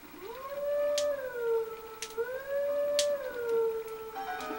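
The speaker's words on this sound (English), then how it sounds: "Behold the howl!" Wolf Link howling in Zelda: Twilight Princess, a clear tonal howl rising and falling in a long wavering line across several seconds, fairly close and heard on its own.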